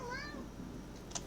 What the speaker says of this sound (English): He's a cat, and he always wants my attention.